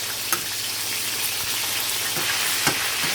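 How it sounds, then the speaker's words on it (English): Fish fries in a hot pan for a brown stewed fish dish, giving a steady, close sizzle with a couple of sharp crackles and pops as the pieces are turned. "I think I flip the fish right now."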